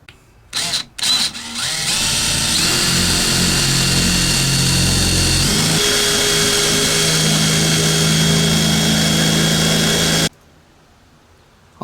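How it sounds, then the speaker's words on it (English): A power drill boring holes through a van roof for a vent fan install, starting with a few short bursts, then a loud sustained whine that shifts pitch midway before stopping abruptly into silence. "4 holes are drilled in the corners of where my template mark was."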